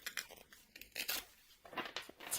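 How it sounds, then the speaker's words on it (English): Tarot cards being shuffled by hand, a string of quick, close papery riffles and flicks in irregular bursts separated by short pauses, with no talking. "It's a terrible shuffle."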